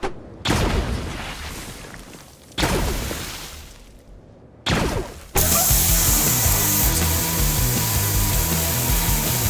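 A loud power tool runs in three short bursts separated by brief pauses, then a harsher, continuous mechanical roar takes over and keeps going, close up.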